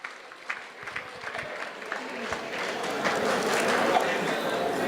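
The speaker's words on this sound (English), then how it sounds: "Give him a big round of applause, please." Audience applause at a graduation ceremony and cultural festival, a dense crowd clapping that swells and grows louder toward the end, with a voice briefly audible underneath.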